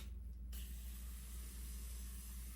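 Makeup setting spray misted onto a face, a soft sustained hiss that starts suddenly and continues quietly over a low background hum.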